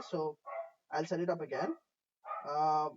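A dog in the room lets out several short barks and yips, loud and close, with someone speaking briefly between them.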